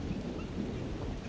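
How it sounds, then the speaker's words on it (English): Steady rumbling thunderstorm with rain in the hunting game The Hunter: Primal, a continuous low roar with hiss and no distinct thunder crack, heard alone. "Wait for the storm to pass."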